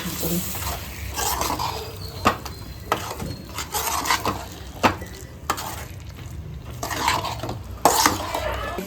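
Scraping and stirring ground masala in a pot of chicken gravy with a spoon, repeated knocks against the metal over a low sizzle, close by.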